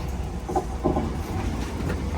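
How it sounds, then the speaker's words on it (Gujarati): A train pulling into a station, heard as a continuous low rumble of rail cars with faint clattering over a couple of seconds. "ટ્રેન આવી ગઈ તારી"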